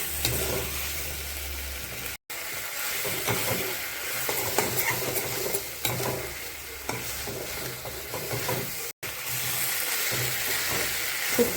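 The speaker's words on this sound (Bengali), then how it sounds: "এখন মশলাটা দিয়ে কিছু সময় ভেজে নেব।" Spices ground with mustard and sesame fry in a mixed vegetable curry, giving a steady, loud sizzle with constant stirring scrapes that runs throughout, broken by two brief gaps.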